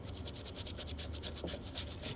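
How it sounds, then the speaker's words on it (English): Nylon brush scrubbing a Volkswagen Passat vacuum pump part after a spray of brake cleaner: quick, steady back-and-forth bristle strokes, about four per second, close and soft. "Here's your brush. It's a nylon brush."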